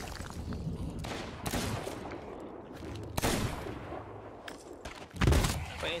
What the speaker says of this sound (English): I'm shooting him with a cannon, baby.